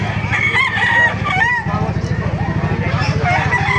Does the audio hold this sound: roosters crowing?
yes